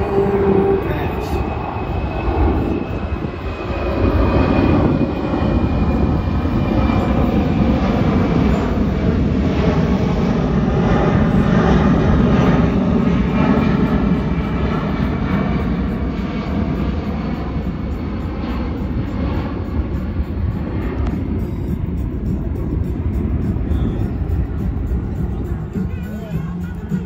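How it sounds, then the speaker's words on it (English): A C-17 cargo plane rumbles past low and slow with gear down at an air show at MCAS Miramar, a deep sustained roar that swells and slowly fades, with voices talking over it. "you hear and feel the weight of this airplane right now"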